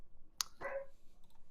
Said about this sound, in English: See my microphone going off every time he barks.